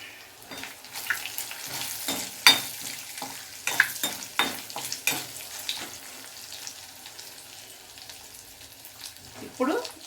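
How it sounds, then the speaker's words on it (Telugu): Curry leaves and green chillies fry in hot oil for an Andhra-style egg curry, giving a steady sizzle with scattered crackles and spoon-stirring scrapes, plus a brief louder clatter near the end. "కరివేపాకు వేగుతున్నప్పుడే రెండు పచ్చిమిరపకాయలు వేసుకోవాలి"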